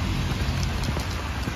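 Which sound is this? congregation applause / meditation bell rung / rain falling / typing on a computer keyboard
rain falling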